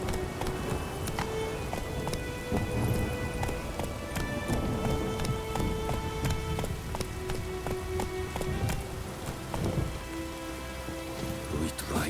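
Steady rain pours down with a dense patter in The Witcher 3: Wild Hunt, and horse hoofbeats clop along underneath amid other faint game sounds.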